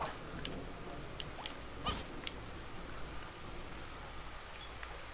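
Rain patters continuously in the video game Battle Block Theater, a soft even hiss with a few brief sharp clicks over it.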